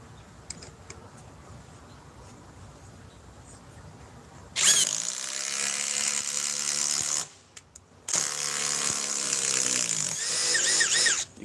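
A Ryobi cordless power tool driving a 5-inch lag screw, a loud, strained whine and grind that starts suddenly, cuts out briefly, then resumes and runs on, preceded by quiet background noise.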